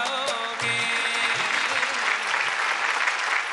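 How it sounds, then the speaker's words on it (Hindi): A studio audience breaks into loud, sustained applause on a music quiz show, the clapping swelling after a short musical sting and holding steady as a dense crowd wash. "तालियां"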